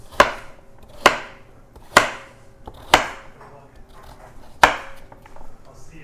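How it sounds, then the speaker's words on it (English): Carrots chopped with a Japanese-made knife on a cutting board, five sharp, loud knocks at uneven intervals about a second apart, close by with no talk. "we're gonna take some carrots and we're gonna just cut them up into nice bite-sized pieces"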